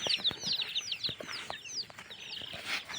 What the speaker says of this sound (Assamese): আৰু এইফালে আছে 14 দিনৰ পোৱালি।